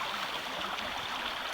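River stream flowing outdoors on a cold morning, a steady broadband rush of water with gentle gurgles, close and continuous.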